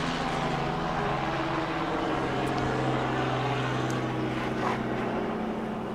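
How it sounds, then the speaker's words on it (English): An aircraft engine drones steadily at a distance with a low, continuous hum, holding at an even level throughout with no talking over it. "Helicopter."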